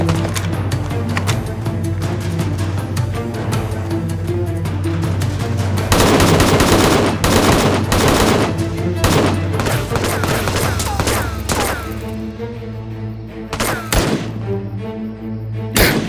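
Loud, sustained automatic gunfire fills a dubbed action drama scene, with dense rattling bursts and heavy thuds running almost continuously before thinning into scattered shots.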